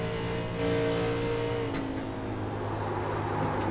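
A stock car engine in the 1987 Darlington 250 race pulls hard as the driver gets on the power after a crest, a steady loud droning roar with rising harmonic tones.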